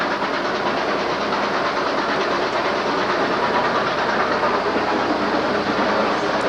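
A steam train rumbles past steadily, a loud continuous roar with hissing and a rapid clatter of wheels throughout.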